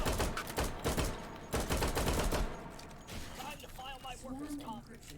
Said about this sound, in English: Beep2Bleep just mag dumping into those SO6 with that USP. Same with FifthSkip with his MP7.